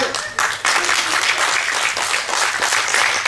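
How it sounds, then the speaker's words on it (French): Sustained applause from a festival audience at a manga convention drawing contest, dense and steady throughout with no pauses. "on peut les applaudir"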